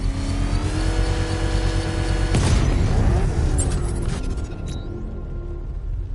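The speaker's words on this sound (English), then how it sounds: "I can use the power winch to trigger a controlled explosion." A controlled explosion set off with the power winch in Batman: Arkham Knight, a loud broadband boom about midway through, thick with rumble and debris over a continuous car-engine roar that persists throughout.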